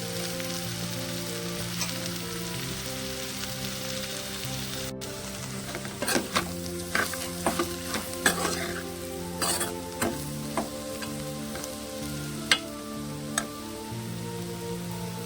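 Ivy gourd (dondakaya) fries in hot oil in a pan, a steady close sizzle broken by repeated scraping clatters of a spoon stirring the pieces, with no talk.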